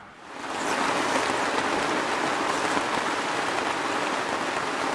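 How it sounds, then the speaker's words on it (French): Steady, dense rain pours down outdoors during a citizens' march, a continuous close hiss of drops on surfaces that swells in within the first second and holds evenly throughout, with no voices. "Nous sommes sous la pluie, donc on nous excusera du bruit ambiant"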